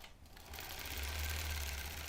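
A sewing machine stitches a quilt, starting up after a brief pause into a steady close mechanical hum and whir that holds for a couple of seconds.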